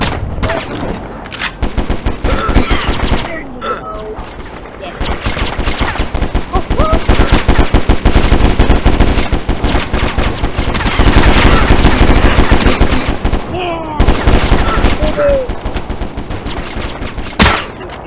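Rapid machine-gun fire and bursts of gunshots fill a round of the online shooter game War Brokers, loud and nearly continuous with brief lulls and scattered impacts.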